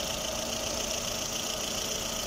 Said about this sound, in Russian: Движок чисто работает.